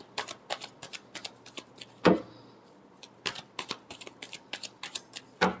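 Playing cards being shuffled, a string of quick riffling taps and flicks in uneven bursts with a couple of sharper snaps, close and moderately quiet with no talk.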